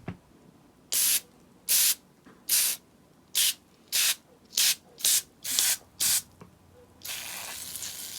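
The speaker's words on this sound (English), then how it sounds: "I'm going to give them another spray" Chrome stripper sprayed onto vintage Star Wars droid figures in nine short, sharp hissing bursts from a spray bottle at an uneven rhythm, close and loud over a quiet room, then a longer continuous spray.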